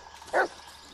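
A dog gives a single short, close bark, a brief yip in the middle of otherwise quiet surroundings.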